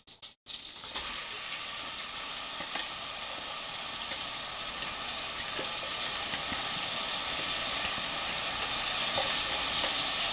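Vegetables fry and caramelize in a pan for poutine gravy, making a loud, steady close-up sizzle that runs the whole time and grows slightly stronger, after a brief clatter at the start.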